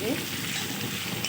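Garlic and ginger paste sizzles and fries in a pan while being stirred, a soft, steady crackle that stays faint throughout.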